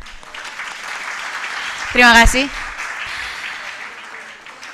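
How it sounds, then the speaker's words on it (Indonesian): Audience applause at a public lecture on peace lessons from Aceh, a steady crowd clapping throughout, with a brief spoken thank-you from a voice rising over it midway. "Boleh tepuk tangannya?"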